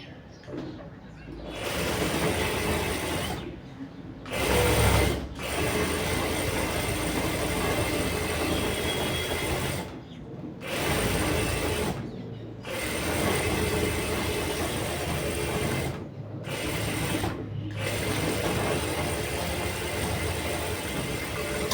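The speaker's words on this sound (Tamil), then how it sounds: "இப்போ ஸ்டிச் பண்ணுவோம். இதை சுற்றி அடிச்சிருவோம்." Sewing machine stitching around a small puff sleeve, long runs of steady motor whirring and needle rattle broken by several brief pauses, close and loud.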